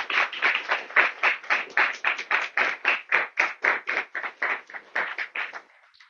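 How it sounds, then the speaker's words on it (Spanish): Classroom students in an engineering faculty lecture room applaud their professor: a burst of rhythmic, fairly close clapping that stays steady for several seconds, then fades out at the end. "un aplauso para su profesor"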